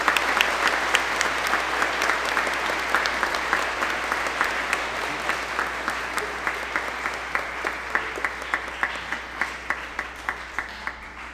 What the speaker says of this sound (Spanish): Démosle un fuerte aplauso a Nicole